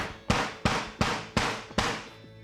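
A hammer strikes a tough jelly candy five times in an even rhythm, each hit a loud, close, sharp thud that rings out briefly before the next, with no voices.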